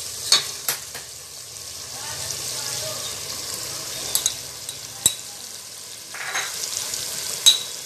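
Green chillies and tomatoes hit frying masala in a pan, giving a moderate sizzle with intermittent stirring clinks and scrapes, and a few sharp utensil taps over the steady hiss.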